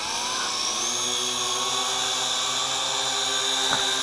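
A Syma X8C quadcopter drone at about three-quarters throttle carrying an action camera, with a continuous high-pitched whine of buzzing rotors, steady and fairly loud, holding the same tone for the whole stretch.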